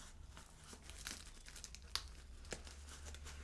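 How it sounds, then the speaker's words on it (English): Paper wrapping on a Les Abstraits Belle Âme fragrance box rips and crinkles in a steady stream of close, crisp rustling, with a few sharper tears standing out and no talking. "So then I've managed to rip this paper."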